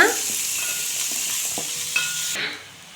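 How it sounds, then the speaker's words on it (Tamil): Onion and carrot sizzle and sauté in a hot pan over medium flame, with occasional stirring scrapes, the sizzle cutting off near the end. "இப்போது நம்ம நறுக்கி விட்ட கேரட்டையும் இது கூட சேர்த்து வதக்கிக்கலாம்."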